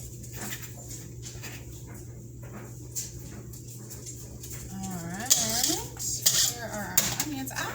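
A puppy whimpers and whines in short, rising cries in a kitchen during pasta salad prep, close by over faint clinks of dishes and a steady background hum, with a person talking nearby.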